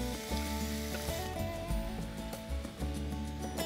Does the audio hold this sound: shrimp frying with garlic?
yes